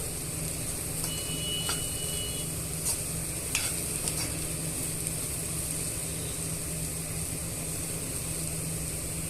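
Beans fry with spices being stirred in a pan, a steady close sizzle running throughout with occasional sharp utensil scrapes and clinks, no voices.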